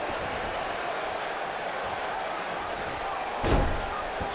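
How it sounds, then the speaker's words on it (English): A wrestler's wrist slammed against the mat during a televised WCW match, a single thud standing out over steady crowd noise from the arena. "Slams the wrist against the mat again."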